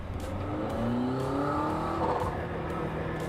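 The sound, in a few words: McLaren Artura engine revving in sport mode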